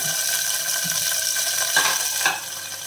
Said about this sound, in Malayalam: നമ്മുടെ ഈ കാഷ്നട്ട് വന്നിട്ട് ഒന്ന് ചുവന്ന് കിട്ടണം അതുവരെ ഒന്ന് ചൂടാക്കണം